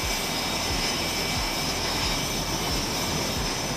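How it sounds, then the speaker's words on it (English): Aircraft jet engines run up loudly on an aircraft carrier during technician tests, a constant heavy roar with a steady high whine and rhythmic low pulsing, with no voices. "The rumble of jet engines occasionally pierces the din as technicians perform"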